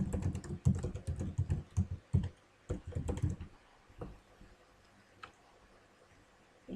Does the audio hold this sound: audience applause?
no